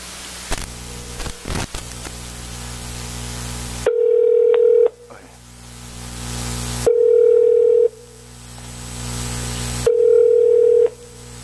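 Landline telephone placing a call: steady ringback-style tone bursts repeat at regular intervals, loud and clear, preceded by clicks and brief dialing noises, with no talking.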